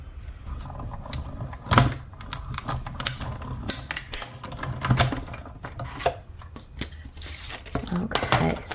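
Hand-cranked die-cut machine pressing paper flowers and leaves for a gift card pocket ornament, a steady grinding, rumbling roll with clacking bumps, close by, while someone talks over it.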